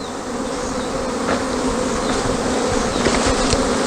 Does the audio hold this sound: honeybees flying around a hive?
yes